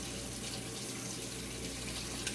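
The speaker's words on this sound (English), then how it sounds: "I'm washing my hands here" Steady running water from a tap while hands are washed beneath it, a continuous close rushing hiss with no talking.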